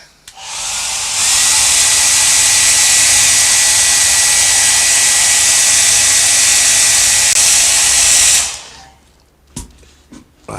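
A hair dryer drying a watercolour fruit still life painting, a loud steady whooshing roar that runs for about eight seconds and then cuts off, leaving faint handling sounds.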